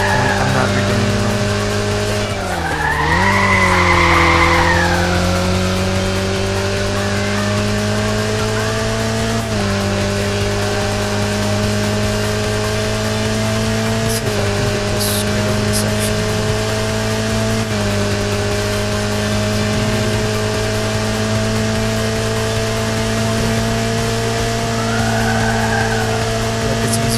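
Cars in the racing game Initial D: Touge Spirit drift through corners, engines droning steadily while tires squeal in long sliding bursts, loud and close throughout.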